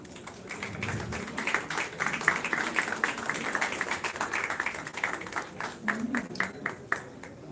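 Audience applause at a film festival award ceremony in India as an honoree is called to the stage: steady, dense clapping sustained throughout at moderate distance, with faint voices beneath.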